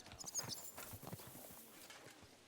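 Horse hooves clip-clop in Kingdom Come: Deliverance 2, a quick run of soft, close hoofbeats over faint ambient background.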